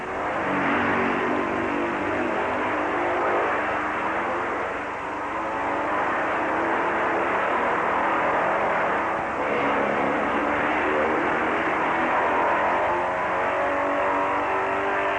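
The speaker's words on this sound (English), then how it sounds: "Now the bikes make their way around the main corner of town and once again head over the entire course." Motorcycles from the 1958 Catalina Grand Prix race through the town's streets, a dense, continuous engine roar with open throttles that stays loud and even throughout.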